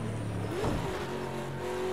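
IMSA GTD or GTP race car engine at racing speed on the Long Beach street circuit, a steady loud onboard drone with a brief rising rev swell partway through.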